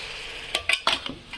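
Eel fish pieces coated in biryani masala frying in a few spoons of oil, a steady close sizzle joined by several quick utensil clinks and scrapes, no voices.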